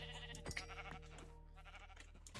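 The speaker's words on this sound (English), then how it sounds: "We got a flock of sheep." Sheep in Minecraft bleat repeatedly, several short nasal calls spread over a couple of seconds against a steady low background hum, with no voices.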